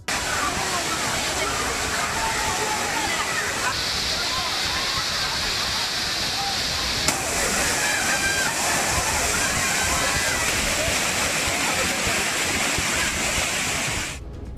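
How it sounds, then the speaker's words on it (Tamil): Thirparappu waterfall roars steadily at moderate flow, a dense continuous rush of falling water with a voice talking over it. "திருப்பரப்பு அருவியில் தற்போது தண்ணீர் மிதமான அளவில் கொட்டுகிறது"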